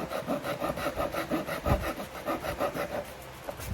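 A Japanese pull saw cuts wood in steady, rhythmic rasping strokes, about three or four per second, close and fairly quiet. The strokes run alone, with no speech.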